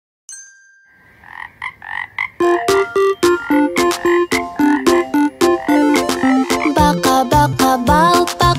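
A short run of cartoon-style frog croaks opens a Kazakh children's song about a frog, then gives way to bright, plinking music with steady rhythmic notes.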